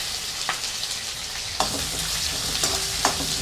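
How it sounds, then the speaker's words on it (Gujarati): Onion, curry leaves and green chillies sauté in a pan with a steady sizzle, broken by occasional scrapes and taps of a stirring spoon. "ગેસ મીડિયમ રાખવાનો છે એટલે આપણું આ બધું સતળાતું જશે અને ચડતું જશે"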